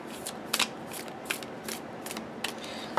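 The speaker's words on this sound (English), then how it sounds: "It riffle shuffles like a dream." Repeated riffle shuffles of a tarot card deck make soft, close card flutters and light snaps, spaced fairly evenly over a quiet room hiss.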